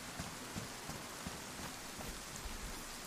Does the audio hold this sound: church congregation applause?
no